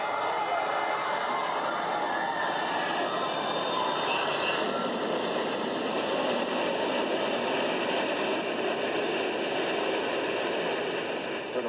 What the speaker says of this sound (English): The North Tower came crashing down.